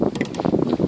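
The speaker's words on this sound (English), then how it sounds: "it's just the gentle wind, must be about 10 to 12 knot breeze, if that." Gentle 10 to 12 knot breeze rushing past a boat cruising across Hawke Bay, a steady low buffeting wind roar with gusting swells of noise, close and fairly loud throughout.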